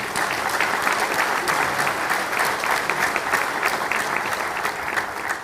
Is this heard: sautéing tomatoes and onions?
no